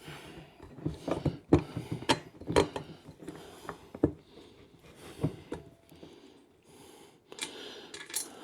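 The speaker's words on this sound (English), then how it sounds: "Washer, bolt. And get them tightened down." Bolts and washers being fitted and tightened on a Gorilla 7 cu. ft. heavy-duty poly yard dump cart during assembly, close metallic clicks, taps and ratchet-like rattles in irregular bursts with quiet pauses.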